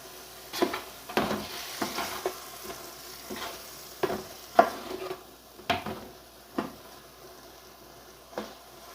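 Beef frying with spices in a pot sizzles steadily while a spoon stirs and scrapes, making sharp clanks against the metal every second or so. It is close and has no talk.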